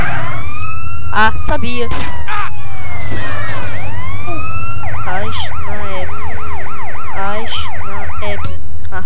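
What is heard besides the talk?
police siren in the GTA San Andreas video game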